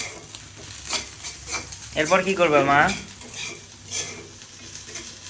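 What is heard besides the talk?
onions frying in a pan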